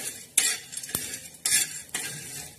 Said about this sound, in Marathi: डाळ आणि थोडीशी बाजरी घ्यायची, ही सुद्धा आपण भाजून घेणार आहोत